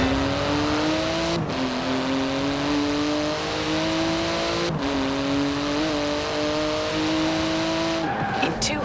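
A Porsche 911 GT2 in Forza Horizon 4 roaring through city traffic, engine revving up in rising steps with gear-change drops and tire squeal, loud and close beneath a talking voice.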